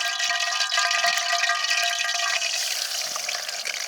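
A whole quail fries in hot oil over a village cooking fire, giving a loud, steady, close sizzle and crackle that continues without a break.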